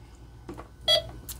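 A Dungeons & Dragons Electronic Labyrinth board game gives a short, faint electronic beep that sits among light handling clicks, with no talk.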